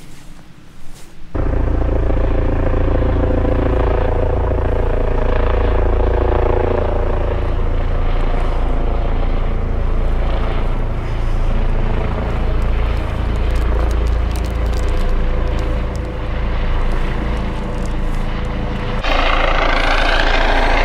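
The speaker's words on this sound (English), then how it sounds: "It looks like a police helicopter." A police helicopter flies low over a winter camp in Snowdonia, its steady rotor roar loud and close, holding for about twenty seconds before easing slightly at the end.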